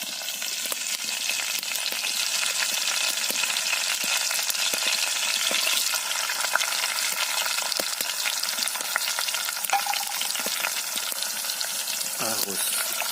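Garlic and onion sautéing in a pan for a Filipino shrimp and kamias dish, a constant close sizzle with scattered crackles and occasional utensil scrapes, no talking over it.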